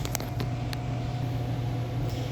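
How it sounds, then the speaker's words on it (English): A clothes dryer running on a raised stand, a steady low mechanical hum with faint tumbling clicks, close and uninterrupted. "This is the dryer."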